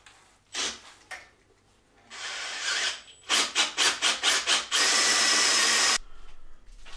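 Power drill boring into a Volvo 740 engine block part, running in several short bursts then one long sustained whine, loud and close, with a few rough starts and no talk.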